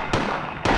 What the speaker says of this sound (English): stop shooting the roach